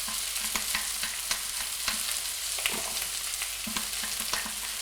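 A spoon stirs leek curry through a hot pan, scraping and sizzling in a steady, close rhythm with soft repeated strokes and no voices.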